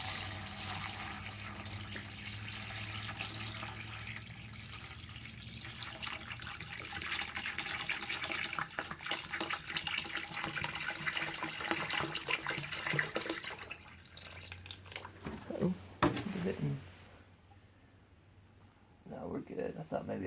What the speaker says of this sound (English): we'll add some more water to make sure that these things are completely covered.